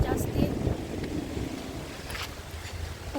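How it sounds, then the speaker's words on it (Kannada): Strong wind buffets the microphone during an auto-rickshaw ride, a rough, gusty roar close up with traffic noise behind it, while a person talks over it. "ಗಾಳಿ ಬೇರೆ ಜಾಸ್ತಿ."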